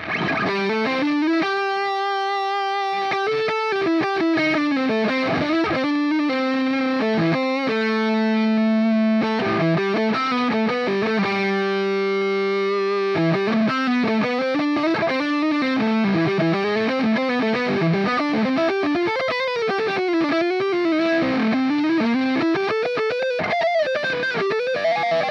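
Electric guitar played through a NUX MG30 Fireman multi-effects amp with the compressor engaged, producing a distorted, chorused tone with sustained notes and bending melodic lines over about 25 seconds, steady and loud with no talking.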